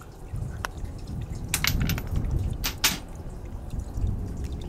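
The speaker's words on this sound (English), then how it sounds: "There's water, oh, that's the water from there running in." Water trickling and dripping into a cave entrance on the Connie Sue Highway toward Cocklebiddy, a close, irregular patter of drips with a soft running flow beneath.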